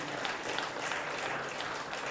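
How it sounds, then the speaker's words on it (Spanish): A church congregation claps together in sustained applause, a dense even patter of many hands filling the room without pause and with no talking. "Denle un aplauso al Señor"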